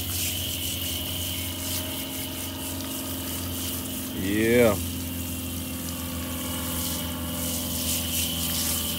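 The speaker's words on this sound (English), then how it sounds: "Let me get the water hose real quick." A water hose sprays down a Weber kettle grill with a steady hissing, rushing stream. A short gurgling burst cuts through midway, and a person briefly speaks.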